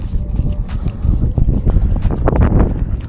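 Strong gusting wind buffets the microphone on a fishing boat in a fjord, with water slapping against the boat close by.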